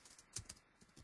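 Faint, quick clicks of computer keyboard typing come in a short, uneven burst of a few keystrokes, heard close but quiet against a low background hiss.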